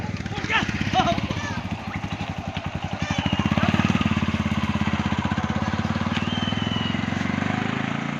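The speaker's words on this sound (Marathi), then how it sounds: "गाडी आली वाटतं मागून" A motor vehicle approaches from behind, its engine drone growing louder and holding steady with a pulsing beat, while people talk nearby.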